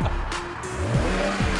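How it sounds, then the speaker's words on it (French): A powerful 400-horsepower car speeds and runs a stop sign, its engine rising in pitch with revving sweeps and a brief tire chirp, loud and close throughout. "Regardez Komi Benga faire un excès de vitesse et griller un stop."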